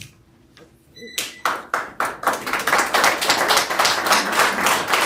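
Applause breaks out in the audience at a city council meeting after a short electronic ping, starting with scattered claps that quickly swell into sustained, fairly close clapping from the crowd.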